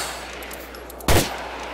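A single sharp gunshot burst cracks out in GTA 4 as police fire at the player, loud and close over a steady background hum.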